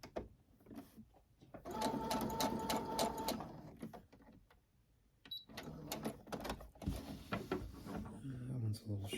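A sewing machine runs a seam out to a corner in two stitching bursts split by a short pause, with a rhythmic mechanical chatter close by and a voice talking at points.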